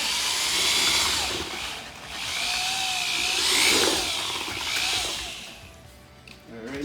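A power mixer on a drill churns self-leveling floor underlayment in a bucket, a loud whirring drone that surges and eases in waves over several seconds.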